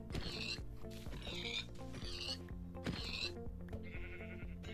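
Pig oinks from Minecraft video game animals, four or five short bleating grunts in an irregular series, faint and close together.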